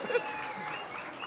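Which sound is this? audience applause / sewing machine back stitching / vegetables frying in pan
audience applause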